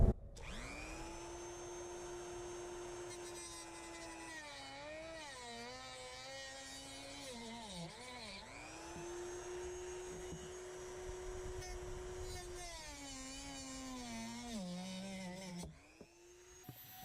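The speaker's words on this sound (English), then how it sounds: "now with the Dremel, we're going to cut" A Dremel rotary tool cuts speaker mount pieces for a 2018 Mercedes Sprinter 4x4. It gives a steady high-pitched whine that dips and rises in pitch as it bites into the material, running continuously before stopping near the end.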